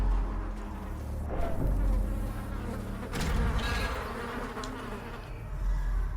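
Steady insect buzzing from a swarm of thronging hives in the video game Darkest Dungeon, a continuous mid-level drone with low rumble beneath, swelling slightly around the middle and end.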